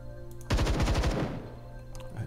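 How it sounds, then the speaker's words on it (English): An engineer's small pistol fires in the video game Templar Battleforce, a quick burst of several loud rapid shots that fades into a short decaying tail. "The engineer's little pistol."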